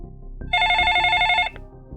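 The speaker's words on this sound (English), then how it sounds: "It wasn't the digital ringtone of the modern phones. It was the mechanical bell of an old rotary phone." An old rotary telephone rings with one sustained metallic tone lasting about a second. It is loud and clear over a low background murmur and then cuts off sharply.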